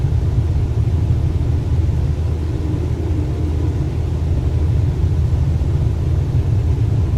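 A light aircraft engine in Microsoft Flight Simulator roars in a dense, steady low rumble during the takeoff roll at full power. The drone stays constant and loud from start to finish, with no voices.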